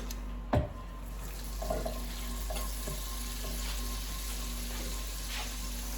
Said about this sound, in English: Now we're going to melt our butter.